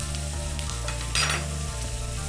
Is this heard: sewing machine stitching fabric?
no